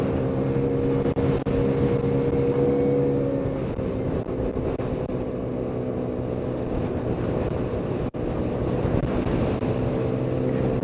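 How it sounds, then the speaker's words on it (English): A restricted Lexmoto Echo Plus motorbike engine drones steadily near 30 mph, a loud, close, continuous hum with a slight pulsing waver as the restriction cuts power, under wind noise and with no talking. "As you can hear with the engine, it keeps on pulsing when it hits 30."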